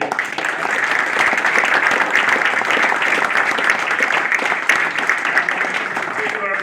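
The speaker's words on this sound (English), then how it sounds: "Can we just have a round of applause for Ed's staff that's done a really good job." Sustained audience applause at a Massachusetts Democratic primary political event, a steady, fairly loud wash of clapping that holds throughout with some crowd noise mixed in.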